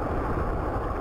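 Loud, rumbling strong westerly storm wind buffets the microphone over a broad roar of big, rough surf, dense and continuous for a moment with no voices.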